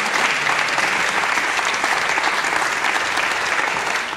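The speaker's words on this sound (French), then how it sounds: "on applaudit George Michael." A French TV studio audience applauds steadily and loudly throughout, a dense, continuous wash of clapping with no voices over it.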